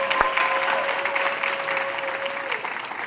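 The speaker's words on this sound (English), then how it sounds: "Kennedy is in California, so we're just gonna clap for her." An audience claps for an award winner at a scholarship presentation, a brief burst of steady applause lasting a few seconds, with a faint sustained tone underneath.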